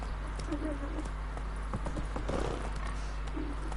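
Horse hooves clip-clopping in The Witcher 3 video game, a steady rhythmic trot of the horse Roach over a low background hum, with faint voice sounds.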